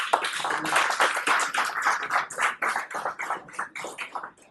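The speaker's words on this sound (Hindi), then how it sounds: "एक बार पूरे इन स्टूडेंट्स का एक बार तालियों से जोरदार अभिनंदन।" At the ENVICTUS'26 event, an audience applauds the students with a dense, lively spread of hand claps that thins into scattered, separate claps toward the end.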